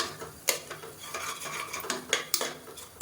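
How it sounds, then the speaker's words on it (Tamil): A spoon stirs chicken masala in a pan for biryani, scraping and clinking against the metal in uneven strokes, with a soft sizzle underneath, close and moderately loud. "அதை லேசாக பரட்டி விட்டுக்கலாம்."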